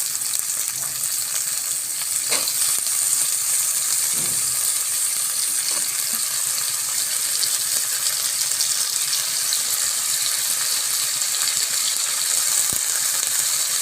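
Potatoes frying in hot oil in a pan, a continuous, dense, even sizzle with occasional faint knocks and clinks.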